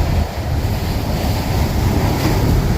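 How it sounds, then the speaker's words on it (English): Large ocean swells break against big boulders beneath tall cliffs on a cod-fishing coast. A continuous, loud roar of surf mixes with heavy wind buffeting the microphone, and no voices are heard. "the swells are massive"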